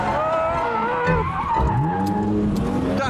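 A wrecked exotic car being driven hard spins out with loud squealing, skidding tires and a warbling engine, close and continuous, with no talk over it.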